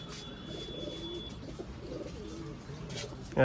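Pigeons coo softly and steadily on a rooftop in Islamabad, where paired fancy pigeons are kept, a low murmuring texture that runs nearly throughout, with a sharp bump at the very end.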